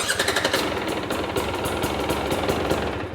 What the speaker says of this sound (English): Notice how this bike started amazing?